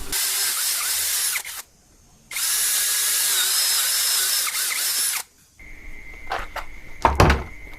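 An OSUKA 5in1 OCD701-D1 cordless drill with a 20 mm paddle bit for boring wood whines loudly in two sustained bursts separated by short pauses. A few clicks and clunks from handling the tool follow.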